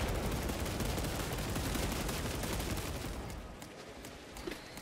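Dense, rapid gunfire in the Space Marine 2 video game, a continuous loud barrage of overlapping shots that thins out and fades over the final second.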